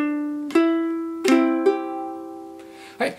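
Plucked ukulele notes struck in a short clawhammer pattern from "Cripple Creek", a few bright strums and single strings ringing and decaying, played solo and close.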